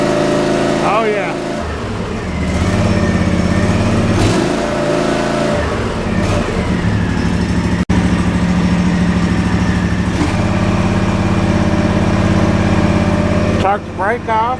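An Ariens IKON X 52-inch zero-turn riding mower with a 23 HP Kawasaki engine runs close by, idling and revving up and down at a steady volume while people talk over it.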